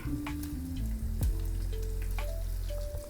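Vertically sliced onion sautéing in hot oil with fenugreek seeds and urad dal in a pan, a steady close-up sizzle and crackle running continuously, with a tone-like hum from the stove or background.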